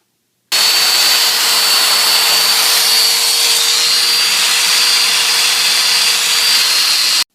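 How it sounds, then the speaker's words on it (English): A Festool Domino joiner plunges into poplar board with a loud, close, steady motor roar and a high whine. The sound starts abruptly, holds for about seven seconds, then cuts off sharply. "The poplar just cuts beautifully with the Domino"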